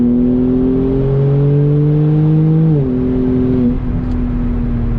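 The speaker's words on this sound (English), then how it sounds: "Wheel spin." Kia Stinger twin-turbo pulling hard from first gear with wheel spin: a steady, loud engine drone climbs in pitch for nearly three seconds, then drops at a gear change and settles into a lower, even hum.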